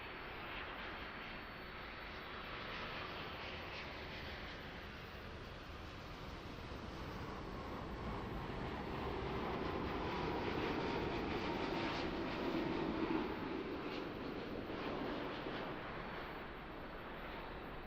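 Boeing 787-9 airliner from Seoul touching down at Auckland Airport, a broad jet roar that swells gradually to a peak near the end and then eases slightly, heard alone without voices.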